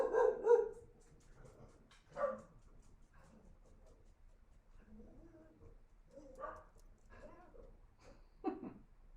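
Dogs bark indoors in short, scattered bursts of a few barks each, some with whiny yelps, at moderate to faint level over a quiet room.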